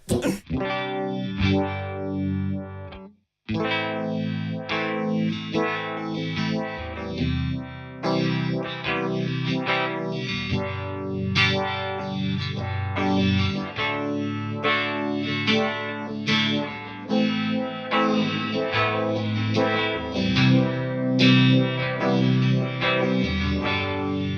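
Heavily distorted electric guitar chords through a Headrush multi-effects pedalboard ring out with chorus and reverb, playing continuously and loudly with a brief break near the start.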